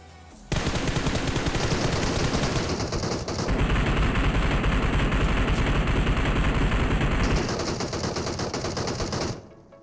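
Rapid bursts of automatic gunfire in the mobile shooter PUBG Mobile crackle loud and close, with one sustained spray followed by another long volley before the fire cuts off abruptly.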